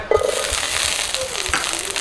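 Sliced shallots go into a hot frying pan of oil after fish has been fried, giving a steady, close crackling sizzle that flares at the start and holds for about two seconds.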